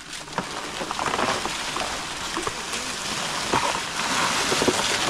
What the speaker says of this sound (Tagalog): ambon, oh. Kalasing uulan.